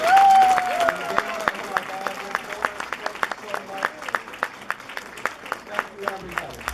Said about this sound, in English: please give a warm applause to Gail and James O'Hare